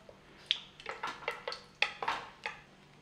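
Whole spices stirred in hot oil and ghee in a pan, a series of light, sharp metallic scrapes and clinks from a utensil against the pan, coming in an irregular rhythm and heard close up.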